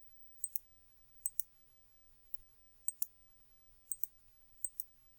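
Sharp double clicks of a computer mouse, five pairs spaced about a second apart, faint and close over quiet room tone.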